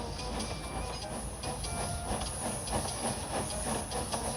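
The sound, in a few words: steam engine puffing and hissing steam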